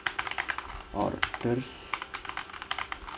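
Rapid clicking of a computer keyboard being typed on, close and steady, with a voice speaking briefly over the keys.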